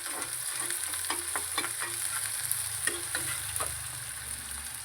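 Upma ingredients frying in a pan on the stove, with a steady soft sizzle under repeated spatula scrapes and stirs that tap and clink at an uneven rhythm, close and fairly quiet.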